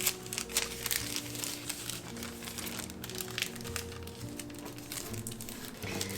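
A small paper envelope is handled and crinkled in a studio, with steady rustling and crinkling at close range and scattered sharper crackles, mixed with faint background music.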